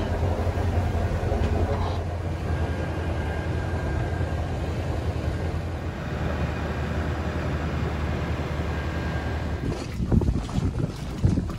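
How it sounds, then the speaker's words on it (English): Strong wind roaring across the microphone aboard an Island Packet sailboat near Norfolk, Virginia, a loud continuous rush with low rumble, gusting harder near the end. "Listen to all that wind."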